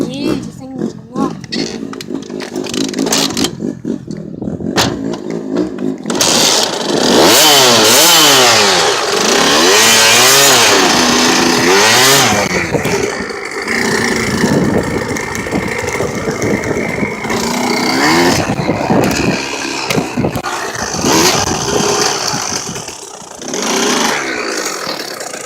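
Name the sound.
dirt bike engine revving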